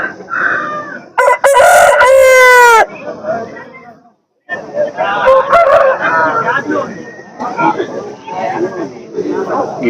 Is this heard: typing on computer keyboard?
no